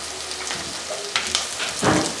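Ginger garlic paste stir-frying in a pan for chicken curry, with a steady close sizzle and intermittent scraping bursts as a spoon moves through it.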